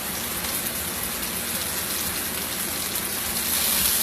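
Warm butter and evaporated milk poured into cooked potatoes make a continuous soft gushing, splashing stream, steady and close for several seconds.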